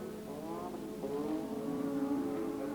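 A 1985 Formula 1 car engine droning steadily as Rosberg's car enters the pits at the South African Grand Prix, a sustained, fairly loud tonal whine that rises slightly in pitch, with no talk over it.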